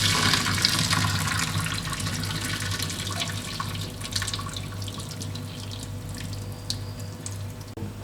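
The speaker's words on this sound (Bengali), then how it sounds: "এখন আমি পাস্তাগুলোকে একটু ঠান্ডা পানি দিয়ে ধুয়ে নিচ্ছি, যাতে একটা গায়ে একটা না লেগে যায়।" Cold tap water runs steadily over boiled pasta as it is rinsed in a sink, a continuous close splashing stream with small clinks near the end and no speech.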